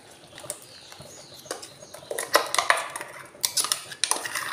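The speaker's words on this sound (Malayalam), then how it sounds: "അരപ്പ് ചേർത്ത് കൊടുത്തു. നന്നായിട്ടൊന്ന് ഇളക്കി കൊടുക്കുക." A spoon stirs ground coconut paste into thickened yogurt in a pot for Kerala kurukku kalan. Irregular metallic scrapes and clinks grow louder and busier, with faint birdsong in the background.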